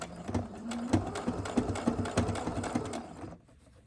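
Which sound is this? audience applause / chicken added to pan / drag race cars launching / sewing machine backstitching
sewing machine backstitching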